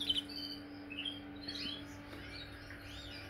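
Canaries in a breeding room give soft, rapid chirps and warbling tweets in overlapping bursts, faint and steady over a low background hum with no talk.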